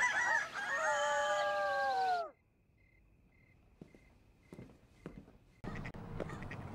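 A rooster crows one long, loud, drawn-out cock-a-doodle-doo that ends abruptly, followed by quiet room sounds with faint beeping, scattered clicks and thumps.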